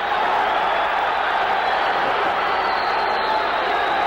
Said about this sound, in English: The crowd is loving this fight.